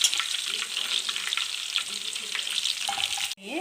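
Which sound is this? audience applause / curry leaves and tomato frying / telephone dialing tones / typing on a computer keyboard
curry leaves and tomato frying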